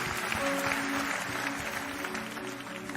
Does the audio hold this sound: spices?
no